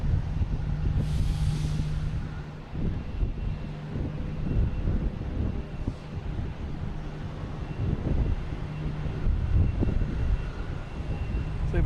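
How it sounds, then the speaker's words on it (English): A Delta Airbus A321 taking off at Boston Logan, a broad distant engine roar mixed with gusty wind rumble on the microphone, steady and sustained with a brief high hiss early on, with no talking. "So we have a Delta lined up, ready to go to Atlanta, an A321, which is taking off."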